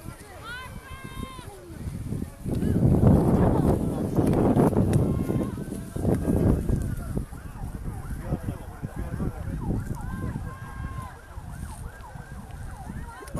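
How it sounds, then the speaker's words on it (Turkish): Ambulance sirens wail in the distance while a forest fire burns on wooded land above a marina in Adıyaman, under steady wind noise and background commotion, with faint wavering tones rising and falling throughout. "Ambulans sesleri geliyor."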